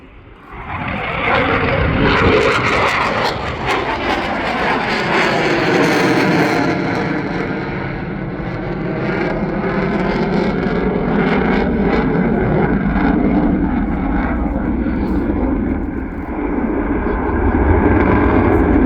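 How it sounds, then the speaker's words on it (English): A Dassault Rafale fighter jet flies past at an airshow, its engine roar loud and sustained throughout, swelling and shifting slightly in pitch as it passes, with no talk. "Bringing the aircraft in now at some 350 knots."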